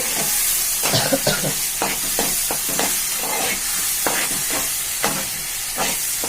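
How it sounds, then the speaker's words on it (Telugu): Tomato, cumin seeds, green chilies and curry leaves frying gently in a pan on a low flame, giving a steady soft sizzle with repeated stirring scrapes and clinks throughout, close up and alone. "టమాటా, జీలకర్ర, పచ్చిమిర్చి, కరివేపాకు వేసుకోవాలి. సిమ్లోనే పెట్టుకొని వేయించుకోండి."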